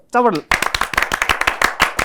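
Loud, quick hand clapping from a small group, a dense burst of claps following a short spoken voice.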